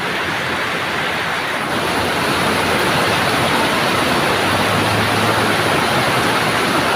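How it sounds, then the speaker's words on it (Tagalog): Dense, roaring downpour, a steady wash of heavy rain with no pauses, loud and close throughout. "Napakalakas ng ulan."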